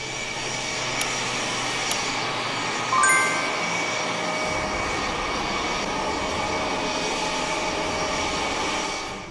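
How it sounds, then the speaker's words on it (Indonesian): KF-21 fighter jet prototype in flight after takeoff from the runway at Sacheon, South Gyeongsang Province, a steady loud roaring jet engine drone that holds continuously throughout with little variation. "Prototipe IFX terbang selama 39 menit setelah lepas landas dari landasan pacu"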